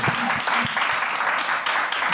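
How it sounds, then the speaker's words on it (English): Studio audience applauding as a guest named Caroline is called up onto the stage at a live Edinburgh Festival television show, a dense, steady wash of clapping throughout with a few low voice fragments underneath. "Everyone's going to give you a massive round of applause"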